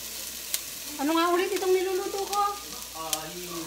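Bicol Express sizzling and frying in a pan, a steady hiss with stirring scrapes, with a brief tonal voice-like sound over the cooking around the middle of the clip.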